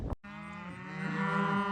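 Cattle on an upstate New York farm give a single long, loud moo that starts low and rises in pitch, held steady for over a second after a brief knock at the start, close to the listener with no voices.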